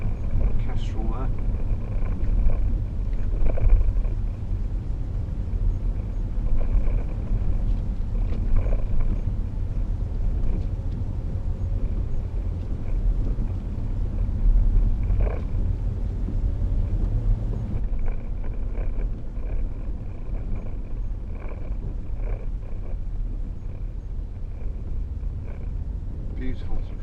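A 2012 Range Rover Sport with a 3.0 SD V6 diesel engine driving on the road, a steady low engine and road rumble with wind noise, continuous and even throughout.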